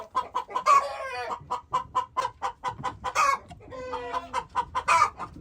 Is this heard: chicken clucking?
yes